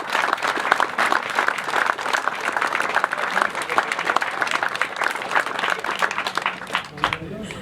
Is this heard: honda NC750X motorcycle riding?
no